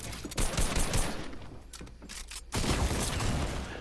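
A shooter video game produces bursts of dense gunfire, with rapid automatic shots rattling out, a brief lull, then another loud volley close by.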